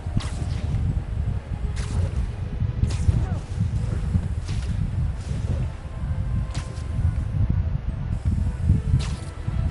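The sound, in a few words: spraying vaccine into trees in the video game Marvel's Spider-Man PS5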